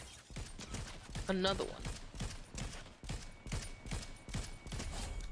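Gunfire in a video game cracks out in a steady run of repeated shots at a fairly even rhythm, heard under players chatting over it.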